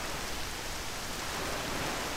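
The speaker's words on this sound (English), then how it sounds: "Why the fuck is it always raining?" Steady rain falls in the video game The Legend of Zelda: The Wind Waker, a dense, even hiss of downpour with no other sounds.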